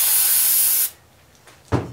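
Brake cleaner sprays from an aerosol can onto the engine parts of a Chevy S10 pickup in one loud, steady hiss of almost a second, followed by a brief quiet pause and a dull knock.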